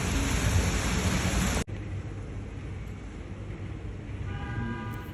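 Heavy downpour with thunder in Ludhiana, a loud dense roar of rain that drops abruptly after about a second and a half to a steadier, softer wash of falling rain, with a faint tonal hum near the end.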